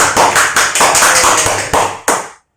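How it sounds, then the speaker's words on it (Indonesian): A class of students claps hands together at a morning lesson, a quick run of roughly a dozen sharp, close claps in an uneven rhythm that ends with a final clap and then silence. "tepuk tangan dulu"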